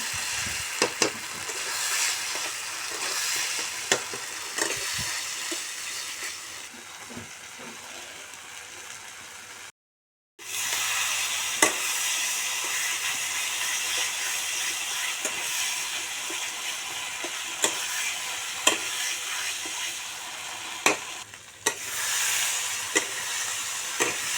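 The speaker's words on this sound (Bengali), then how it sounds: "এবার দিয়ে দিব আমি টমাটো কুচি এবার ভালো করে টমেটোর সঙ্গে মশলা ভালো করে কষিয়ে নেবেন" Chopped tomato cooking down with spices in a pan for a mutton dish: a loud, continuous close-up sizzle and hiss with occasional utensil clicks and one brief cut to silence partway through.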